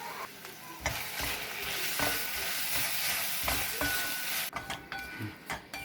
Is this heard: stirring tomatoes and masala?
yes